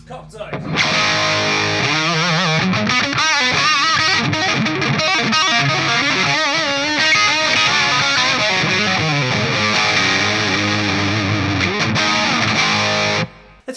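Electric guitar played through a SviSound CockedZoid distortion pedal into a Marshall JVM amp, a thick, saturated overdriven tone with sustained chords and riffs ringing continuously and loudly for the whole stretch.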